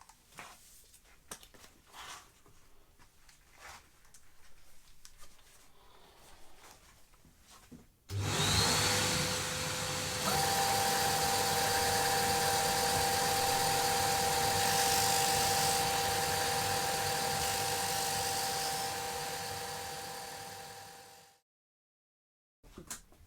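A Ferrex belt and disc sander, Aldi's budget model, runs loud and steady as its disc rounds the front edge of a walnut piece, starting abruptly after quiet handling noises and winding down near the end.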